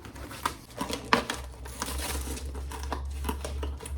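A plastic mailer holding a cosmetics order from the EVA store is crinkled and torn open by hand, with close, uneven rustling and a few sharper rips over a low background hum and no talking.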